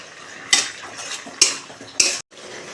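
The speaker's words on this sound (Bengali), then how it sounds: "এবারে এগুলো সব ভালো করে মিশিয়ে ভেজে নেব।" Chilli chicken sauce seasoned with salt and sugar is mixed and fried in a pan, with three distinct, loud spatula scrapes against the metal over a soft, continuous frying hiss.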